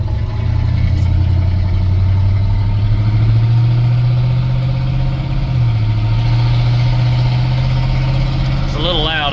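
1978 Chevrolet C10 pickup with a 305 engine and its exhaust sawed off right under the cab, a loud, deep, steady exhaust drone with a slight pitch drop midway, heard close from inside while on the road.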